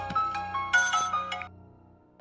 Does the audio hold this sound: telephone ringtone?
yes